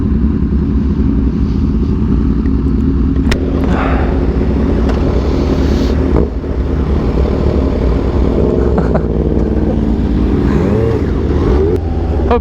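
A Kawasaki Ninja H2 motorcycle engine, tuned for aggressive throttle response, revs hard and loud from very close, with a dense, continuous roar and throttle blips rising and falling throughout, and no talking over it.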